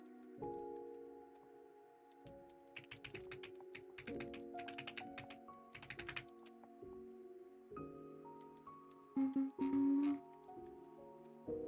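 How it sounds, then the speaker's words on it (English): A computer keyboard is typed on in quick bursts of soft clicks under a steady hum, with a brief louder burst of taps near the end. "You guys can have a little bit of keyboard ASMR."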